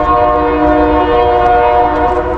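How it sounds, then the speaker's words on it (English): A loud train horn blares in a steady, sustained chord very close by in Alaska, with the rumble of the passing train underneath. "Yeah, that train's loud."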